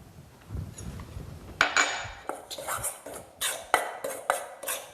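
Cupcake batter of flour and baking powder being mixed vigorously in a bowl, heard first as soft rustling, then as a run of sharp, fairly close clinks and taps of a utensil against the bowl in an uneven rhythm.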